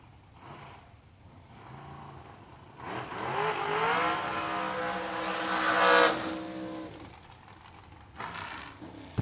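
A dragster does a very short burnout at a drag race, a loud rising engine roar swelling over a few seconds to a peak and then dropping away, heard from a distance in the open.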